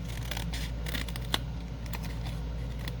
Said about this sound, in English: I needed my smaller scissors.